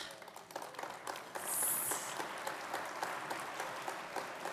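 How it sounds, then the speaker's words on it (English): Gala audience applause at the National Building Museum's annual celebration, a soft, distant wash of many hands clapping steadily in a large hall, with a brief faint high-pitched tone partway through. "You don't have to clap all the time."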